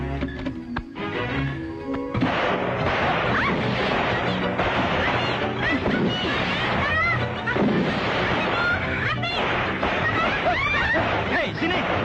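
A stock of fireworks goes off with bullets mixed in, loud sharp bangs and crackles bursting in a rapid, irregular volley at close range, with people shouting and laughing over the blasts.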